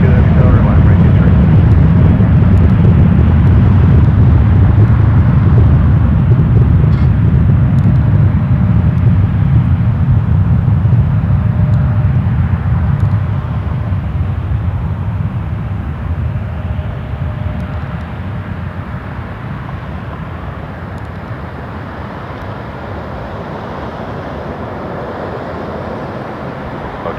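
An airliner takes off on runway 23 at Toronto Pearson, a loud broad jet roar that holds strong and then slowly fades as it climbs away, under intermittent radio talk.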